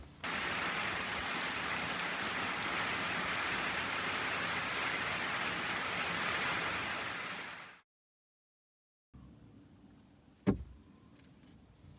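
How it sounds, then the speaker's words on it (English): Rain falling as a dense, steady hiss for about eight seconds, then breaking off into near silence, followed by faint rain and a single dull thump. "The next day, it rained all morning"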